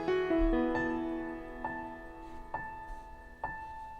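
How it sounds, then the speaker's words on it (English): Piano for a cover arrangement of a song plays a few chords, then single notes that are struck at roughly one-second intervals and ring out, played alone with no voices. "I put the foundation down with a piano"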